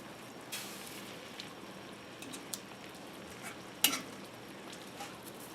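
Steak with its juices sizzling in a cast iron pan while being stirred, a faint, steady crackle with a few sharper spits and clinks.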